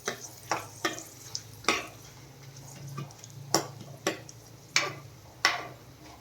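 Curry leaves, dried chili and bay leaf fry in oil with dal and cumin in a tempering, a low steady sizzle punctuated by sharp spaced taps and scrapes of stirring against the pan.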